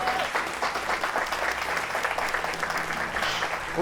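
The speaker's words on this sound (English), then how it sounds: "Let's make some noise for Manit, everyone." Loud, steady applause from a crowd, sustained clapping throughout with no break.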